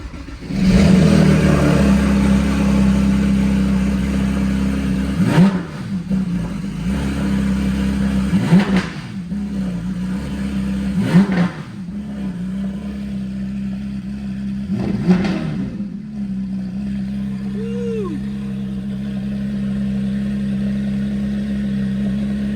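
A Porsche 911 GT3, hooked to a jump pack in a shop, cranks and catches several times with short revving bursts. It then settles into a steady, loud idle close by.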